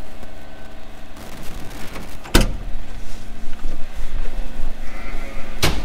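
Sheep in a large sheep shed, with bleating heard over a steady indoor hum and two sharp loud knocks or clanks, no talking.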